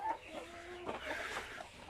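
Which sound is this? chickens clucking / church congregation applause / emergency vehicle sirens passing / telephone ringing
chickens clucking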